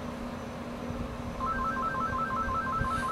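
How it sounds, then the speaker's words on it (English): A house phone rings indoors, a warbling electronic trill starting partway through and repeating steadily, fairly loud over a faint room hum with no talking. "Sorry, it's my house phone ringing."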